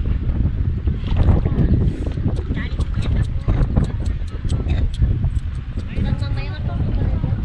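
Strong wind blasts steadily across an open rural field in Occidental Mindoro where onions are being planted, a dense, continuous roar that stays loud throughout, with faint voices talking beneath it.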